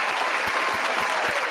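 Short burst of steady crowd applause for a show's production team, dense clapping at moderate level with no talking.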